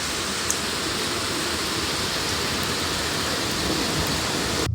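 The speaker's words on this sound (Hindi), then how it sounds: "देखो कैसे बारिश लग रही है।" Steady rain falls outdoors in a continuous broadband hiss, even and close, with no voices over it.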